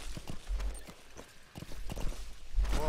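Horse hooves clip-clop in the Metal Gear Solid V video game, a run of quick irregular thuds at moderate volume with no talking.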